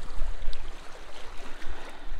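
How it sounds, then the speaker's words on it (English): Choppy water kicking up against a rocky lakeshore at a Crown Land campsite, a brief, close, churning wash and slosh with low rumbling gusts. "The water's kicking up."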